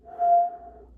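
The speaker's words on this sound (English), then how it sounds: "wait, I've never whistled before." A single person whistles one steady, sustained tone for about half a second, clear and close against near silence.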